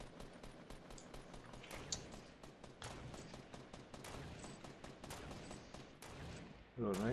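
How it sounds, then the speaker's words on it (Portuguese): Fortnite gunfire rattles in quick bursts and scattered single shots, sharp and fairly close over a low game background, ending with a louder sudden effect; no speech over it. "Dá-lhe tiro, dá-lhe tiro."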